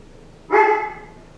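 One sharp, loud bark from a dog nearby cuts through a quiet room and trails off within half a second.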